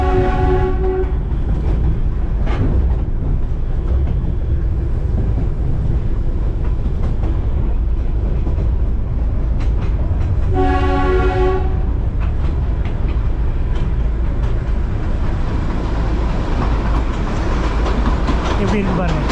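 The Darjeeling toy train rumbles along its track with a continuous heavy clatter, and its horn sounds loudly twice, once early and again midway.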